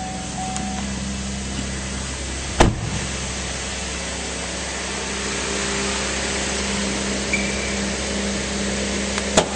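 A 2010 Cadillac SRX Luxury Collection AWD engine idles under the open hood with a steady, even hum, close by, broken once by a sharp clunk partway through.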